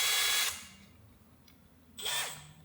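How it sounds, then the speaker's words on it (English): A power drill boring out an M8 bolt with blunt bits, two short bursts of high whining drilling separated by a pause of near-silence, close and fairly loud. "now I'm going to try and use all of these blunt drill bits"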